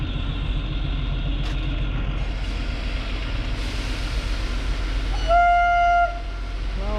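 Train at Shimla railway station, heard as a continuous low rumble with a short horn toot near the end, loud and steady with no voices.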